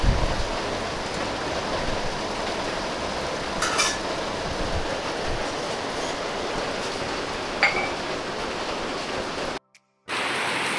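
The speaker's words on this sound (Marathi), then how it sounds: "भायर मस्त पावस पडता" A steady, dense hiss of rain runs throughout, close and even, with a couple of brief faint clicks before it cuts out abruptly near the end.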